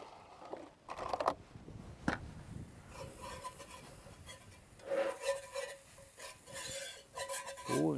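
Flour stirred into softened onions in a pan, with scraping and rubbing strokes of a utensil across the pan, some sharp clicks, and a moderately close, uneven rhythm.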